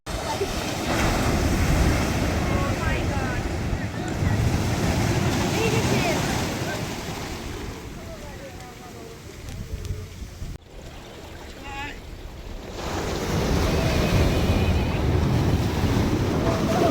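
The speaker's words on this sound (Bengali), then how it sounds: "দাঁড়ান আমি আপনাদের ঢেউগুলোর আওয়াজগুলো শোনাই একটু" Ocean waves crash and roll onto a beach at Tajpur or Sankarpur near Digha, a loud surging wash that dips briefly midway, with wind gusting over the microphone.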